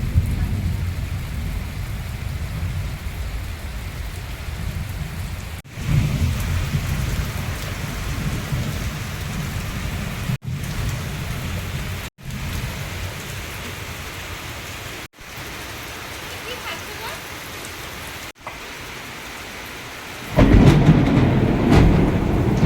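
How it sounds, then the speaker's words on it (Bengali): Heavy rain pours down steadily, accompanied by deep rumbles of thunder, with a louder, closer roll of thunder swelling near the end. "বৃষ্টি হচ্ছে আর আকাশের আওয়াজ হচ্ছে দেখুন।"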